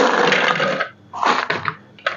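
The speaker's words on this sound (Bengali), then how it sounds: "আমি এখন ব্লেন্ডারের ভিতরে প্রথমে আইস দেব" Ice cubes tumble into a blender jar while a mint lemon summer drink is made: a loud clattering rush, a short pause, then further rattling pours, close up with no talk.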